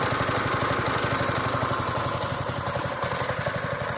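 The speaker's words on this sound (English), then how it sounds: "the engine starts, which is all good and everything" A go-kart engine built from scrap metal runs steadily at idle, a loud, close, even chugging with a fast regular beat and no voices over it.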